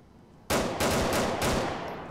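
Gunfire erupts in a first-person police patrol video game, a sharp loud burst followed by several rapid close shots that blend into a ringing, echoing volley before it fades.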